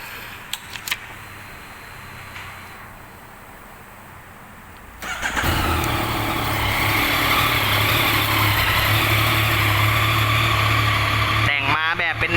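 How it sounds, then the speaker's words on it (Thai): A few faint clicks, then a 2018 Yamaha XSR900 ABS motorcycle engine cranks to life and settles into a loud, steady idle close by. "เดี๋ยวผมจะพาไปฟังเสียงเครื่อง SSR 900 คันนี้"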